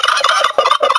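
A turkey gobbles loudly and close by, a rapid rattling burst of repeated gobbles filling about a second, with no talk.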